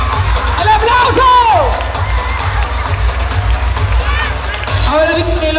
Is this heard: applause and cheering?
yes